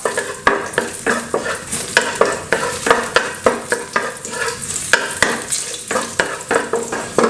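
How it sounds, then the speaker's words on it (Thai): Crushed garlic stir-fries in hot oil for Thai pork gravy noodles, a loud, close sizzle punctuated by regular rhythmic scrapes and clinks of a spatula against the pan. "กระเทียมนะครับ ที่เราทุบเอาไว้เนี่ย ใส่ลงไปได้เลยนะครับ เราไปผัดกับน้ำมันให้น้ำมันมีกลิ่นหอมนะครับ"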